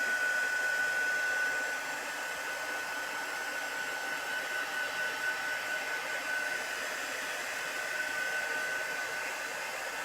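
A hair dryer blows steadily up close, drying chalk paste on a wooden pallet board, its constant whirring roar holding even and loud throughout with a faint whine on top.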